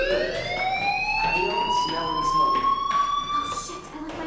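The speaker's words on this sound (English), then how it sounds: "Hey, do you hear that fire alarm?" A school fire alarm in the video game Life Is Strange rings loud and steady, a rising electronic wail with bright harmonic overtones sustained throughout, no speech over it.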